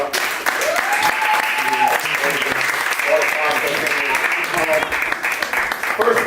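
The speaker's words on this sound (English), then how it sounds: "let's get a round of applause for the fathers up" Crowd applause at a Father's Day tribute event, a sustained dense clapping with whoops and voices shouting through it.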